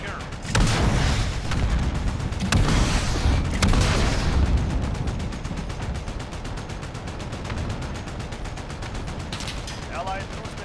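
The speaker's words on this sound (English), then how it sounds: "Allied cruise missile launched" Explosive booms and artillery-like blasts from a cruise missile strike in Call of Duty: Modern Warfare, with loud rumbling impacts early on and a sustained roar of distant fire and battle noise continuing afterward.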